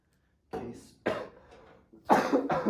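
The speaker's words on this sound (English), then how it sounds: "I have a cough right now." A series of harsh coughs, four or five bursts with short pauses, close and loud, the last ones coming in a rapid pair.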